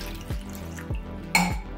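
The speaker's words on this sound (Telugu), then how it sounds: "చూడండి 1 గ్లాస్ వాటర్ పోసుకుంటున్నాను" A glass of water is poured over tamarind in a bowl to soak. Short splashing and gurgling bursts sound up close in a quiet kitchen, with no talk.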